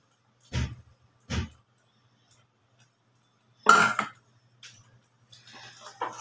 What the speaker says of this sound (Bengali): আর একটু আমি মশলাটাকে ভালো করে নাড়াচাড়া করে নেব।